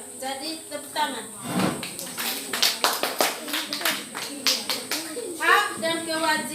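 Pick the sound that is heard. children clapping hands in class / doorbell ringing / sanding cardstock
children clapping hands in class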